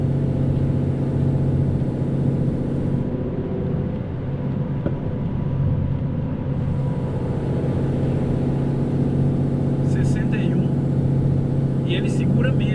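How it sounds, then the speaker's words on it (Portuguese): A Scania R450 Euro 5 truck descends a hill with its retarder engaged, giving a steady, heavy droning hum that holds throughout, with a few faint high clicks near the end. "Olha o som do retardo trabalhando."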